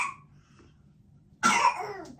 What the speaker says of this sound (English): Looks like somebody else is going to start with a cough as well.